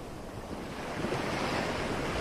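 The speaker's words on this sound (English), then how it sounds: "Engage the waves." Ocean surf rolls in as a steady, broad roar of breaking waves mixed with wind, building slightly in loudness over a couple of seconds with no talking.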